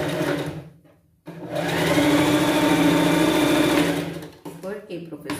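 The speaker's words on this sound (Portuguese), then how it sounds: "vou colocar cava com cava e costurar a parte do ombro" A sewing machine stitches the shoulder seam of a pet costume dress in a sustained, loud, buzzing run of about three seconds, with talking just before and after.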